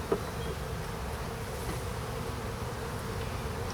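Honey bees buzz steadily and fairly close throughout a hive inspection, a continuous droning hum with no talking.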